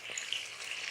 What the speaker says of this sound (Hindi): देखिए मसाला अच्छा सा हमारा बहुत अच्छा सा भून रहा है